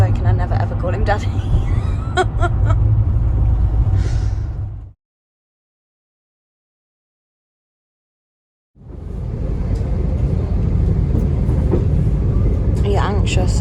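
Steady low rumble and rattle of a moving train carriage, loud and continuous, with a few seconds of silence midway.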